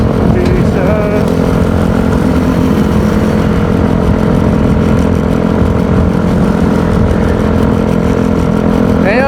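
Loud, steady engine drone from a Yamaha Mio Gear 125 scooter while riding, constant throttle with a rough rumble; a voice talks over it.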